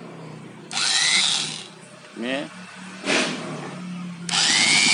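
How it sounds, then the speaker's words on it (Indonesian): An Aldo BLB 138 electric drill whirs up in several separate bursts with short pauses between them, alternating with brief spoken words, loud and close. "perkenalkan bor Aldo"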